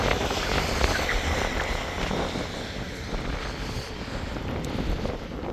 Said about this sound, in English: Excuse the traffic noise.